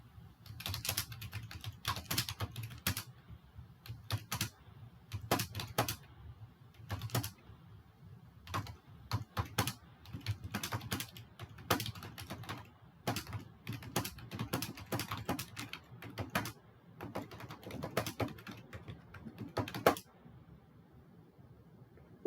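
Fingers tap steadily on a computer keyboard, producing a close, quiet run of irregular clicking keystrokes with short pauses that lasts about twenty seconds before stopping.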